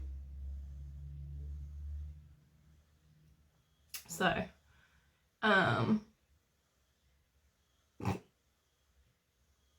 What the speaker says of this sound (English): that's my back massager moving me, by the way